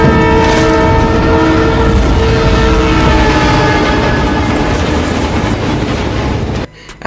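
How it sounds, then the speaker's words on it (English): A movie chase scene carries a loud, sustained train horn blaring over the heavy rolling rumble of a passing train, both staying dense and close until the sound drops away at the very end. "trying to beat a train coming their way"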